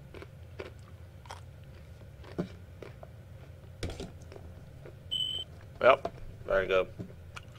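Peanuts chewed close to the mic with scattered crunchy bites and mouth noises, some sharp cracks, under a quiet hum, a few electronic beeps and a brief spoken voice.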